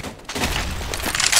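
Grenade blast in the video game CS:GO, a loud broad boom with a rumbling tail lasting over a second, close and dense, with no talk over it.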